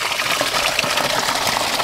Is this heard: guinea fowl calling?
no